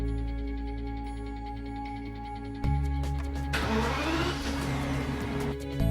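A BMW 7 Series engine idles steadily after starting on a lift in a workshop, a constant mid-pitched hum that grows louder partway through with a broad whooshing, fan-like layer near the end.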